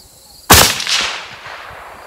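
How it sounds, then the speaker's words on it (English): A single loud, close rifle shot from a lightweight .308 AR10 cracks sharply and rolls into a decaying echo across the range. "I'm going to show you sort of how I'm shooting these five-shot groups"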